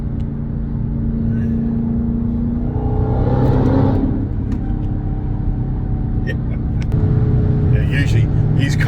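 A Dodge Charger Hellcat's exhaust rumbles steadily and rises into a throaty rev, heard from inside the car, with a few faint clicks near the end.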